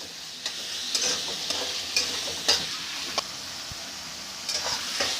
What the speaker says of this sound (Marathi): आता इथे शिमला मिरची पण मी टाकून घेतली. 1-2 मिनटं आपण तिला परतून घेणार आहोत.